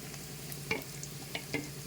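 Crushed garlic added to half-fried onions, sizzling softly in a pan with a few scraping stirs of a spoon, quiet and close with no talk.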